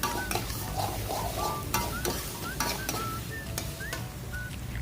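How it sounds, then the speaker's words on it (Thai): Boiled pasta being tossed and stirred into Thai panang curry in a pan, giving a steady scraping and clinking of utensil against the pan with soft sizzling underneath, fairly close and continuous with no talk. "เราก็จะใส่เส้นพาสต้าค่ะ พาสต้าที่ต้มแล้วนะคะ คลุกเคล้าให้เข้ากันนะคะ"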